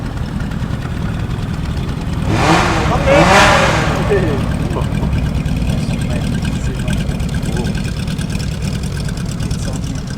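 A classic car's engine idles at a historic hillclimb event, a steady low rumbling burble with a brief swell of louder passing noise partway through.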